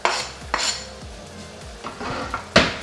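Chopped vegetables for stuffed bell peppers tossed into a pan of browning ground beef, a series of sharp metallic knocks and scrapes of a utensil against the pan, several distinct hits with a faint sizzle underneath.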